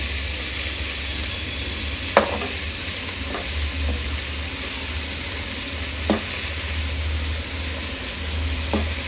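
Chopped spring onion greens stir-fried in a pan for a simple sabzi, a steady sizzle and hiss with a few sharp scraping stirs of a spoon against the pan.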